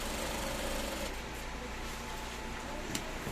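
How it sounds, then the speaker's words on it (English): A sewing machine stitches the front pocket of a pair of trousers with a steady, close, continuous mechanical whir throughout. "You sew from here, half an inch inwards from the lining."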